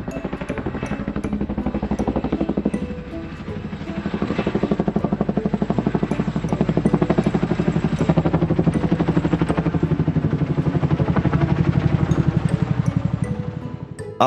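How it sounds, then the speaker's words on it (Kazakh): A helicopter in flight gives a steady, fast, rhythmic rotor chop over a droning engine, holding a fairly constant loudness throughout. "Мынау тік ұшақ."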